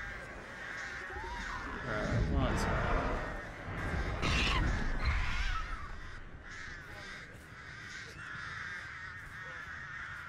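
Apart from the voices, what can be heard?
crows cawing in the video game Dead by Daylight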